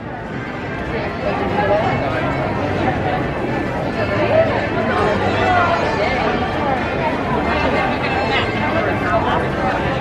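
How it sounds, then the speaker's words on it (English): A busy crowd at Disney's Hollywood Studios park fills the air with a constant hubbub of chatter and footsteps, steady and close all around, with voices talking throughout. "So looks like a busy crowd today."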